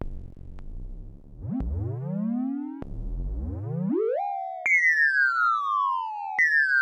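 Synthesized drum hits from a Vermona DRM1 MKIII analog drum synthesizer with sweeping pitch bends, booming low tones rising and falling, then bright high tones gliding downward, played alone.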